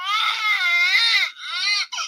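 A Halloween guitar effects pedal plays a synthetic baby-crying sample: a sustained wailing cry, a brief break, then a shorter second wail and a quick tail, loud and close with no talking.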